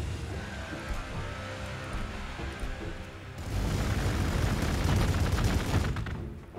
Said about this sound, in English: Kraken bolts, exploding ones